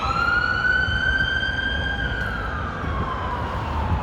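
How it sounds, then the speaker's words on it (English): A wailing siren sweeps slowly up and down over a steady roar of street traffic in downtown Chicago, loud and fairly close. "You hear sirens now."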